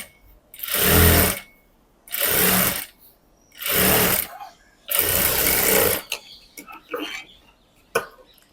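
A sewing machine top-stitching a blouse runs in four loud, even bursts of about a second each, separated by short pauses, followed by softer handling clicks and a sharp tap.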